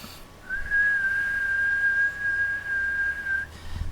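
A person whistles a steady tone of about 1.5 kHz, holding one clear, unwavering pitch for roughly three seconds, with nothing else heard behind it.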